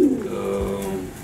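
A prize racing pigeon from a breeder's loft, ranked ninth at a national show, coos in a low, steady rolling murmur that carries through the clip without pause.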